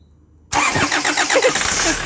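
A Kia Carens engine cranks and catches after half a second of near silence, then settles into a steady mid-pitched idle, close and fairly loud, during thermostat replacement work.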